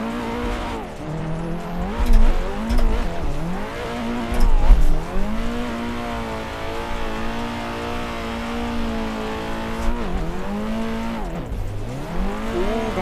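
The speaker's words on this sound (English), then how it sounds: "Will y'all hear that backfire?" Nissan 180SX on a race track, engine revving and shifting with rising and falling pitch, loud and close, with popping backfire crackles between revs and a hint of tire squeal.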